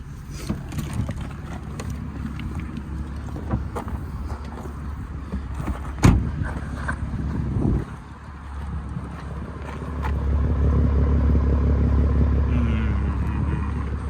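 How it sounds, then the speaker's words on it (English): A 2004 Chrysler Crossfire 3.2 V6 manual with a stage 1 remap and stainless exhaust idles outdoors, giving a steady low burble that swells slightly louder toward the end, with a brief sharp knock partway through. "We'll leave it running just so as it can burble away in the background."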